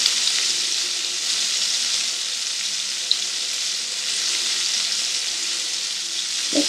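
Raw prawns frying together in a hot pan for a prawn vindaloo, giving a steady, loud, close sizzle throughout with faint scraping as they are turned, and no talking.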